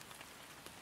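Rain falling outside, a faint, even patter of drops heard from indoors over a brief moment.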